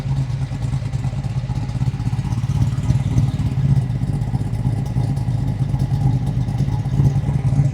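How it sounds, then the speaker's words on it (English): Solid-lifter 396 big-block V8 in a 1969 Chevrolet Camaro L89 with a 5-speed manual, exhaust rumbling at a steady idle, loud and close with a constant low throb throughout. "Great sounding exhaust."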